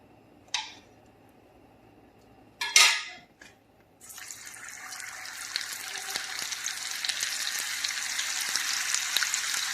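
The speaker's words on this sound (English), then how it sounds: "Melt this butter in here." Butter sizzles in a pan for fried apple pies after two brief clatters, settling into a steady, fairly quiet frying hiss that carries on to the end without talk.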